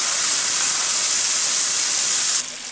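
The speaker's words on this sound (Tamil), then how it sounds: "இப்போ வந்து நம்ம குழம்பு வச்சுருக்கோம் பார்த்திங்களா, அதை வந்து இதில் ஊற்றிடுவோம்" Mutton bone gravy poured into a hot pan, giving a loud, steady broadband sizzle and hiss that holds evenly for over two seconds, then drops abruptly to a softer hiss near the end.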